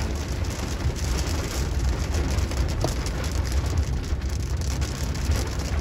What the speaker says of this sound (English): Raining very hard.